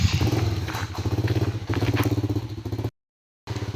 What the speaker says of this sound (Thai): ก็ขี่มอเตอร์ไซค์มา